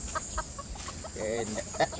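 Chickens clucking in short bursts close by, with a few sharper squawks over a steady background hiss.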